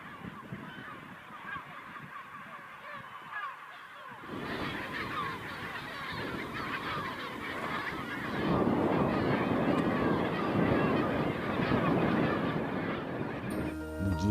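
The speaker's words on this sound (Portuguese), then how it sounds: "Os flamingos são aves migratórias que se alimentam de pequenos crustáceos." Flocks of flamingos and other birds calling at a coastal feeding reserve, a dense chorus of honking cries that thickens and grows louder midway, with wind noise throughout.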